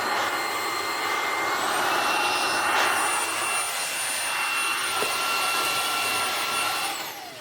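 A Philips U800 vacuum cleaner, dirty and in need of a wash, runs with a loud, steady whining motor roar and airflow rush that holds for several seconds before winding down at the end.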